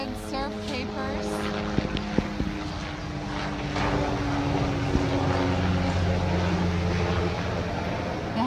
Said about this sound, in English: The helicopter's been flying back and forth here today.